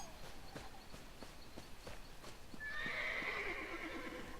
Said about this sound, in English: Yay, there's a real farm here! Horses!